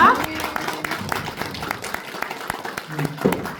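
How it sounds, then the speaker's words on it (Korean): An audience at a church seminar claps to welcome a speaker, a brief burst of scattered applause with voices talking over it throughout. "우리 큰 박수로 맞이하겠습니다"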